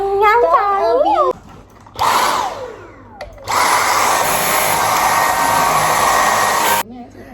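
A Dyson hair dryer blows with a loud, steady broadband whoosh in two bursts, a shorter one first and then a long sustained run of several seconds, with brief gaps and a few clicks as it switches on and off.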